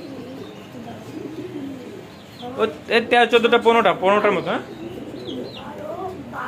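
Pigeons of around fourteen different breeds, including Shalding pigeons, coo nearby in a loud burst of throaty calls that swells and fades, with someone talking over and around them.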